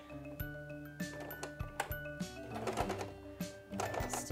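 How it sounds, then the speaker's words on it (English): Sewing machine running a zigzag stitch over elastic fabric in short bursts of rapid mechanical whirring and clicking, with brief pauses between runs, close and moderately quiet. "that's where I'm gonna start stitching. And again, I'm using a zigzag stitch."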